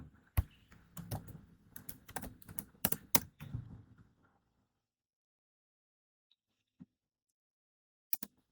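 Rapid keystrokes clatter on a computer keyboard for about four seconds as a command is typed into a Kubernetes command line, a firmer Enter press among them, then near silence with two faint isolated clicks later.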